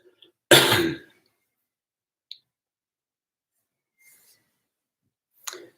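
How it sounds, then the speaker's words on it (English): A single hard throat-clearing cough rings out near and loud in a quiet room, followed much later by a faint click and another short rough clearing. "it's the wrong way of coughing"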